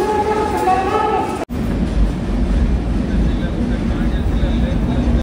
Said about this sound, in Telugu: వచ్చే వాళ్ళు వస్తూనే ఉన్నారు, ట్రైన్లు కూడా వస్తూనే ఉన్నాయి.